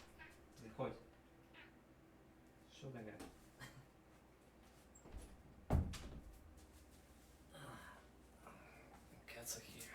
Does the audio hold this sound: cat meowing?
yes